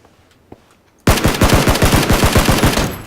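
Machine gun fire in PUBG: after a second of near silence, a loud, close, rapid burst of about a dozen evenly spaced shots rattles on continuously to the end.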